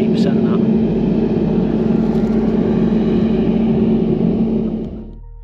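A New Holland CR 8.90 combine harvesting wheat, a loud, steady, close engine-and-machinery rumble that holds evenly throughout, then drops off sharply in the final half second.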